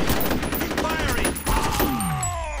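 Rapid bursts of video-game gunfire from F.E.A.R., dense and continuous close-up shooting with sharp repeated cracks, layered under other game effects.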